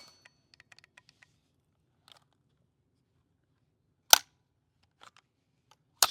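A GHK G5 gas airsoft pistol fires BBs, giving a single sharp, loud crack amid near silence, with faint clicks and handling noises before it and another brief snap at the end.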